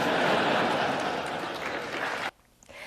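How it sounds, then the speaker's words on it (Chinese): Members of the US Congress give loud, sustained applause to the Japanese prime minister in the chamber, a dense wash of clapping that cuts off abruptly near the end, leaving faint room tone. "I never get such nice applause from the Japanese diet."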